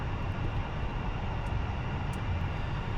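F-14 Tomcat jet engine spooling up during a cold start in the DCS World flight simulator, a steady broadband roar with a low rumble, moderately quiet and continuous.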